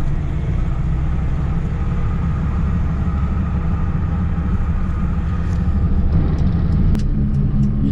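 A car pulling away along a country road, a loud, continuous low engine and road rumble heard from inside, steady throughout with faint clicks near the end.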